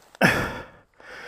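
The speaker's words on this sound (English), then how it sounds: "listening to me panting" A rider catches his breath after trail riding a KTM 350 XCF enduro bike, giving one loud, close, breathy exhale or sigh and then a fainter second breath after a short pause.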